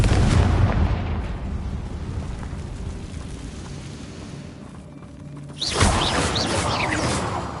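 A Confringo fire-blast spell in Hogwarts Legacy bursts with a loud, rumbling roar at the start, fades into a low churning rumble, then a second bright crackling blast erupts near the end with no voices present.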